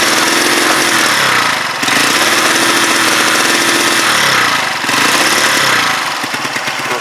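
A Huoniao HN125 motorcycle engine revs hard and rough, its loud, uneven roar rising and falling through two long revs before dropping back to a ragged, sputtering idle.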